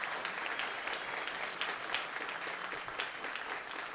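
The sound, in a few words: audience applause for the tourism secretary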